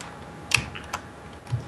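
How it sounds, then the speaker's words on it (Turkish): A few sparse keyboard key clicks, light and close, spread across a quiet background with no talking. "Abi benim klavye sesi çok geliyor mu?"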